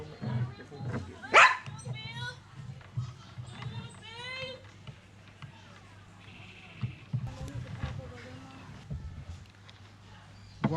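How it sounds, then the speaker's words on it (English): A dog barks once sharply near the start, followed by scattered softer yips and whimpers, with indoor talk and background noise running throughout. "You leave the dog alone."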